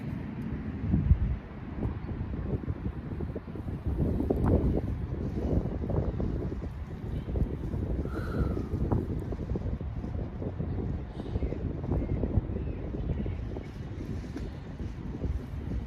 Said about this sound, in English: when the wind's blowing like that, it makes it twice as hard